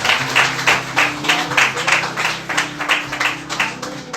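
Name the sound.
congregation applause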